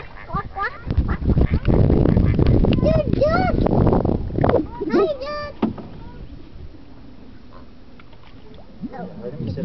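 A goose honks several times nearby, loud nasal calls bunched together, with people talking over and between them.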